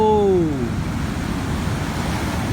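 Large ocean waves break on a rocky shore just after a typhoon, a loud, continuous roar of surf and wind close to the microphone.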